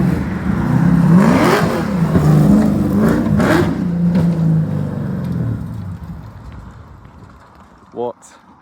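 A carbon-bodied Chevrolet Camaro accelerates along a road, its engine note rising and swelling as it approaches and passes, then fading into the distance, with a brief sharp sound near the end.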